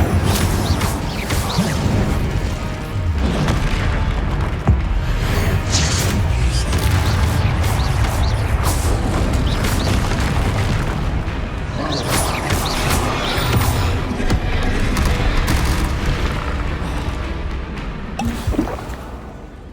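Confringo blasting spells in the Hogwarts Legacy video game, a dense, loud barrage of explosive booms and crashing impacts layered over continuous rumbling game sound throughout.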